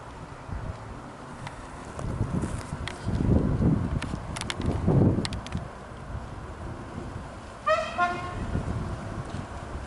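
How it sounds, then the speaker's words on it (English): A train passes below a hillside farm in Greece, sounding a horn as it goes. Two broad swells of passing rumble come first, then a clear stepped horn blast, all at a distance under steady wind noise on the microphone. "This is the train that passes below the farm"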